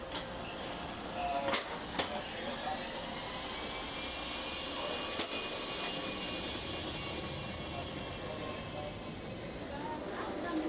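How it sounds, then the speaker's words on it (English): An airplane landing at John Wayne Airport in Orange County, California: a steady, loud engine roar throughout, with a few sharp clicks and knocks standing out above the continuous rush. "I later landed in the John Wayne Airport in Orange County, California."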